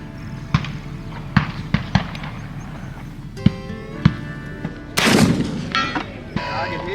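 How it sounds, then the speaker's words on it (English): A black powder rifle fires at a Quigley shooting match, with several sharp, loud cracks spread across the clip and distant target-hit impacts. A burst of bright noise comes near the end. "Now count the seconds from when you hear that bullet start to fly and when you hear it hit."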